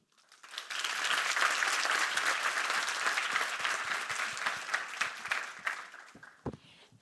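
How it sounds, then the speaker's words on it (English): A conference audience applauds a hospitality speaker, with a full burst of clapping that rises quickly, holds steady, then thins out into scattered claps and fades near the end. "Let's give one more big round of applause for him."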